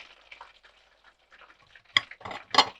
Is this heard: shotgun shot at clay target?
no